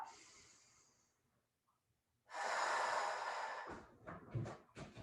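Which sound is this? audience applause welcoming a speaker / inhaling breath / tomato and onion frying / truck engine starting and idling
inhaling breath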